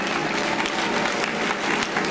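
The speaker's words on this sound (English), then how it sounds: "How about a nice round of applause?" A crowd at a polka anniversary show gives a nice round of applause, loud, dense and steady clapping from many hands throughout the short burst.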